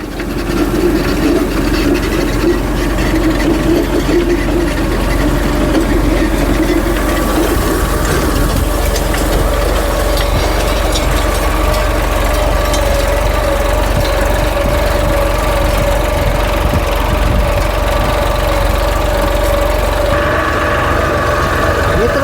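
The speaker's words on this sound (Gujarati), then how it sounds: "ટ્રેક્ટર વહી જઈ રહ્યો છે" A tractor works a cloddy farm field with a loud, continuous mechanical drone and a rattling, gear-like clatter close by, while its engine pitch shifts slightly.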